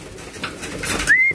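Racing pigeons at a home loft make soft, scattered bird sounds with a brief wing flutter and a short, clear whistle-like note close by.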